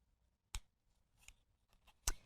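Fabric shears cut through fabric and paper for a quilt appliqué: two sharp, crisp snips stand out close by, with lighter clipping sounds between them in a quiet room.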